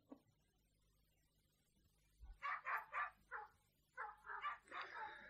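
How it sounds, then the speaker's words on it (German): A dog barks in a 1954 German radio play sound effect, a run of clear, rhythmic barks and yips at moderate distance after a quiet opening. "dann war Pferdewiehern und Hundebellen zu hören"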